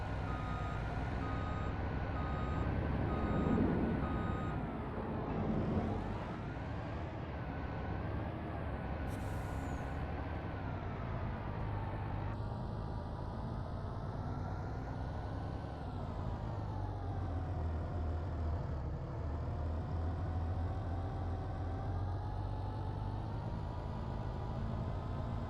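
Truck in Farming Simulator 25 on a Montana map, its steady engine drone running throughout with repeated reversing beeps sounding over it, continuous and fairly loud with no talk.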